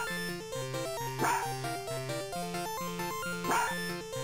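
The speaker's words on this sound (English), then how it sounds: "Stop barking at me!" A dog bark sound effect from Sega's 1994 arcade puzzle game Poto Poto rings out twice, a few seconds apart, over bright, steady chiptune music.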